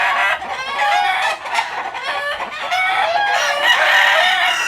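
A four-year-old gamefowl broodcock of the bulldozer hatch line crows and clucks repeatedly up close, loud and continuous with overlapping calls from other birds.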